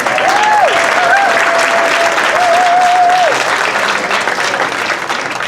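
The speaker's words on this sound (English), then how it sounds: "so give them another round of applause." A crowd gives a warm round of applause at a Philippine Weekend community gathering, steady clapping with a few cheers and whistling voices rising over it before it gently thins out.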